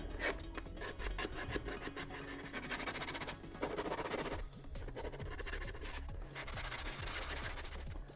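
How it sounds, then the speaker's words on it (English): Steady close rasping of a 120-grit sanding stick scuffing the gloss off a painted Sabine Wren helmet surface, continuous back-and-forth strokes with a brief pause midway. "I use the 120 sanding stick."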